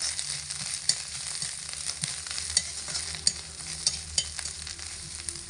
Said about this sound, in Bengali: তো তেলের মধ্যে আদাটা আমি এখানে দিয়ে দিলাম।